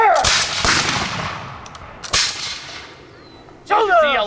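A musket volley at a historical drill demonstration: several loud, sharp gunshot cracks fire close together, then a later lone report with a long fading echo, and a voice calls out at the end.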